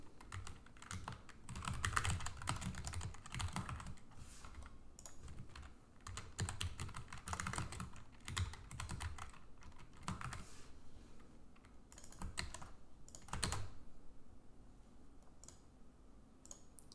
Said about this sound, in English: write my post again